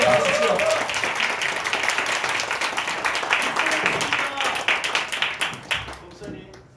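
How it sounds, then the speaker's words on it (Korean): A church congregation at a youth worship gathering claps to welcome a pastor to the front, dense applause mixed with voices that thins into scattered claps and fades out at the end. "우리 박수로 한번 환영하도록 하겠습니다"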